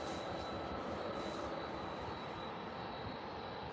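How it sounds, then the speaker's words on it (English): A Ryanair Boeing 737 jet at Birmingham Airport roars steadily as it heads out, a loud, continuous, broadband engine rush with a thin high whine running through it. "Ryanair 737 heading out."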